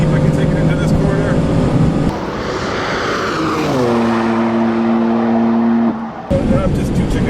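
Engine roar of a 2015 BMW M3/M4 pushed hard into a corner at Road America, loud and close, with the pitch dropping sharply as the car brakes and downshifts. A voice speaks briefly over it.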